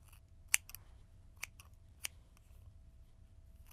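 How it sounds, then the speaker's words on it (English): Scissors snip a small strand of hair at close range while someone trims their own bangs, a few sharp, crisp cuts spaced apart against near silence. "I'm gonna cut this little strand because it's bothering me"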